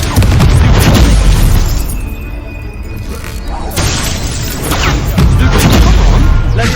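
Confringo blasting spell explosions in the Hogwarts Legacy video game, a series of loud booming blasts with shattering crashes in the first second and again around four and five seconds, amid dense battle noise and a shouted voice.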